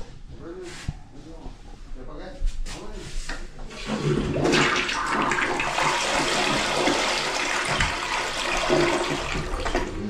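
A toilet flushes in a modern bathroom, a loud rushing surge of water that builds and keeps running after brief sounds and talk at the start.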